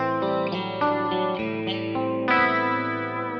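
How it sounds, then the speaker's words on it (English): An electric guitar plays shimmering, swirling notes drenched in chorus, a handful of picked chords ringing into one another, clear and up close. "And then I almost always want a chorus tone, right?"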